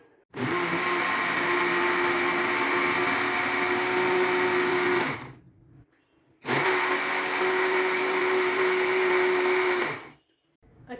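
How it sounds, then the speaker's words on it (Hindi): An electric blender whirs through a mango smoothie with sugar and curd, running loud and steady in two long bursts separated by a short pause, with no talking. "दोबारा से हम इसे अच्छी तरह से ब्लेंड करेंगे।"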